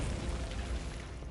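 A Bombarda spell detonates in Hogwarts Legacy, a loud, dense magical blast that fills the short moment with a broad roaring burst and rumble from start to finish.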